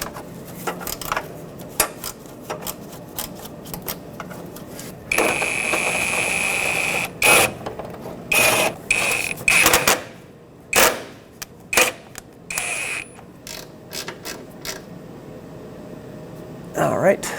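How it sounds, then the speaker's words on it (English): Bolts being tightened on a fog light kit for a 2011-2016 Ford F-350, with a run of sharp metallic clicks and ratcheting bursts close by, scattered between pauses and brief talk. "I'm going to start the 2 top bolts in now"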